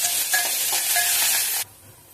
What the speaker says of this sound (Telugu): అలాగే కొద్దిగా కరివేపాకు, కొద్దిగా అల్లం వెల్లుల్లి పేస్ట్ వేసుకొని ఫ్రై చేసుకుందాం.